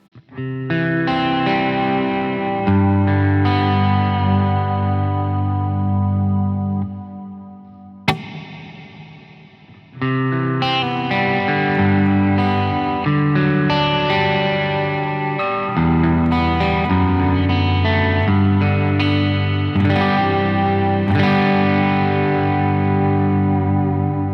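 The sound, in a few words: guitar through rack reverb unit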